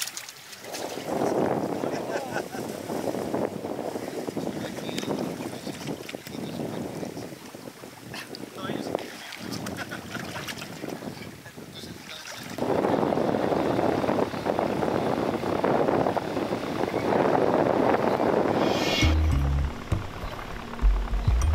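A boat travels along the Mano River inside a national park, with a steady broadband rush of engine and water noise and wind buffeting the microphone throughout.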